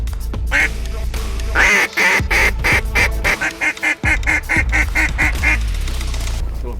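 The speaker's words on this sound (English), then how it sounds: "There's a lot of ducks, heaps of them coming around." A large flock of ducks during a duck hunt gives loud, rapid, overlapping quacks and honking calls, close and continuous, with a few sharp breaks and gusty outdoor noise.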